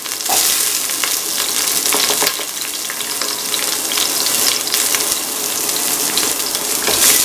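Ginger, garlic, shallot and onion pieces frying in a hot pan for a vegetable coconut-milk stew, a loud, steady crackling sizzle with scraping stirs and a brief watery gush, no voices.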